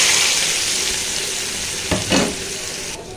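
Fish roe goes into two tablespoons of hot oil in a pan, a loud continuous sizzle near the mic with a couple of short splashy bursts as it is stirred, then the hiss eases.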